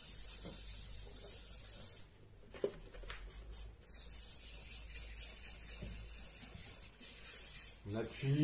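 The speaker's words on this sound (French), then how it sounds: "on recommence l'opération, environ 5 minutes de ponçage comme j'avais fait la première fois" A car headlight is wet-sanded by hand with sandpaper, a faint continuous rubbing and scratching that goes on steadily for several seconds.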